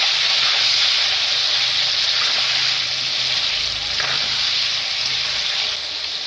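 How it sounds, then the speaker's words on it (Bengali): Chicken pieces fry in oil with potatoes seasoned with salt and turmeric for a chicken curry, giving a loud, steady, close sizzle with a constant hiss throughout and no talking. "মাংসটা ভেজে নিচ্ছি আমি।"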